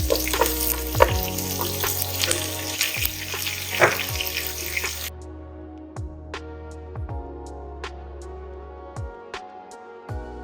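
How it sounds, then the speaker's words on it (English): Chopped white onion sizzles and crackles steadily in hot oil, with occasional clinks and stirring sounds close by, no talking. "the same oil I used for the frying, I'm going to add some chopped white onion"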